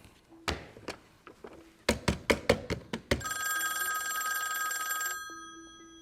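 An outgoing phone call: several taps and clicks as the number is entered, then a steady electronic ringing tone that holds for about two seconds before cutting off, close and with no voices.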